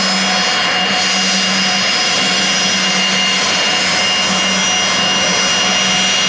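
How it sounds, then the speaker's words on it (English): Paul McCartney's jet arriving at Tullahoma Regional Airport, a loud, steady roar of jet engines with a sustained hum, close and continuous across six seconds with no talk. "that is the most important jet of Bonnaroo this year"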